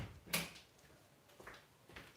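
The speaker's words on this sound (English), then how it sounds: "I've shut the door." A front door swung shut indoors, giving one sharp, loud thud near the start, followed by quiet room tone and a couple of faint soft knocks.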